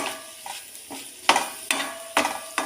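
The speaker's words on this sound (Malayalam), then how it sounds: "കുറച്ച് പച്ച വെളിച്ചെണ്ണ ഒഴിച്ച് ഇറക്കാം കുറച്ച് മതി എണ്ണ നമുക്ക് ഇളക്കി" Long bean thoran being stirred in a pan after a drizzle of coconut oil and curry leaves, gentle sizzle broken by four sharp spoon scrapes and clinks against the pan, close by with no voices.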